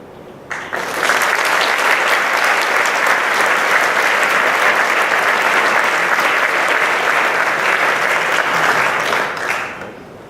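A long, full round of applause from an awards ceremony audience fills the room, rising quickly, holding steady and dense for about nine seconds, then tapering off.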